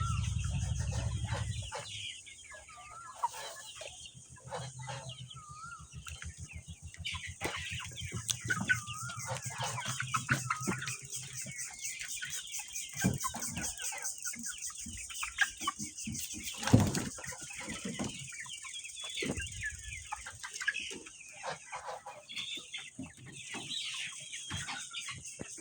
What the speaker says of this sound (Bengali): এ হলো আমার দর্শক বন্ধু লেয়ার মুরগির।